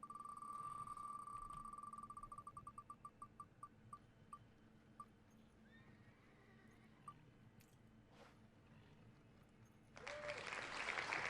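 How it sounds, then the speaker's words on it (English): A run of quick beeping tones slows and fades, then a burst of crowd applause from the video game Wizard101 swells in near the end. "They're clapping for me because they know that it's a good one."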